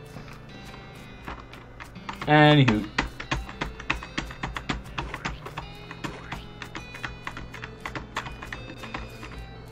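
Horse hooves clip-clop at a steady, even pace in the video game West of Loathing, a brief burst of voice sounding early before the rhythmic footfalls carry on.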